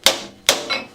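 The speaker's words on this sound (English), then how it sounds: "I give it a couple of swift blows with a copper hammer" Two sharp metallic blows from a copper hammer strike a lathe chuck to lock it onto the spindle. They land about half a second apart, close and crisp, each ringing briefly before fading.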